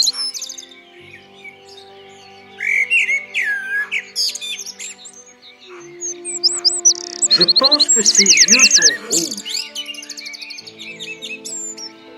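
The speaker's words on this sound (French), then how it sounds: "Donc, c'est un merle albinos." An albino blackbird, white-plumaged, sings in Plérin, Côtes d'Armor, with bright varied warbling phrases and chirps that rise to a dense burst midway, while other birds call faintly and a person speaks briefly.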